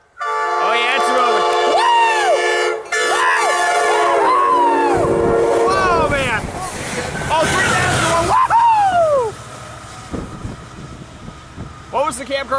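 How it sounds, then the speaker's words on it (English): A southbound Coaster commuter train passes Poinsettia Station at high speed: a loud horn blares with sliding tones, then a roaring rush of rail noise that fades, while people cheer and talk over it. "Here comes a southbound coaster, going really fast"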